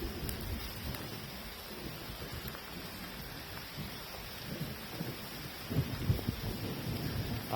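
Steady rain with rolling thunder, continuous hiss of falling rain and low rumbles that swell near the end, no voices.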